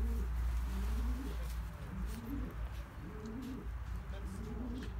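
A racing pigeon coos in repeated rolling phrases, close and clear, over low background rumble.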